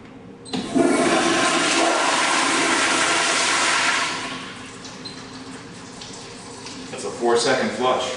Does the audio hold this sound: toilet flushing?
yes